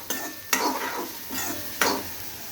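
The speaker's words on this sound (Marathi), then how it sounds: "आता कांदाला पण मी जरा लालसर होऊन भाजून घेणार आहे 2 मिनटं." Onion frying in a pan until reddish, a steady sizzle broken by three or four scraping strokes of a spoon stirring, close and moderately loud, with no voices.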